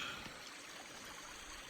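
A freezing cold mountain stream flows steadily nearby, a continuous soft watery rush with no voices over it.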